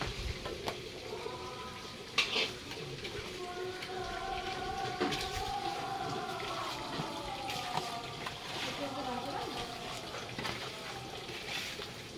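Fish fry in oil in a wok, a continuous crackling sizzle with occasional sharper pops, steady and close, over a faint tonal hum in the background.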